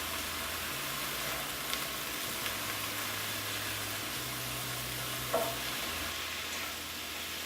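Spinach sautés in a pan with a quiet, steady sizzle and a low background hum, a few faint stirring taps scattered through, no voices.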